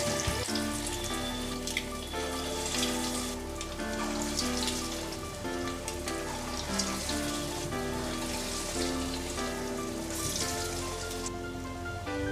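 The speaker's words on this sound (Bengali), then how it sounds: "এবার একে একে চপগুলো দিয়ে দেব ভাজার জন্য তেলে।" Egg and lentil chops hit hot oil in a pan and settle into a dense, steady sizzle with a rain-like crackle, loud and continuous over a faint musical background.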